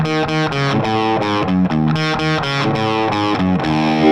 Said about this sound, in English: They've got the delay pedal there and a little bit of reverb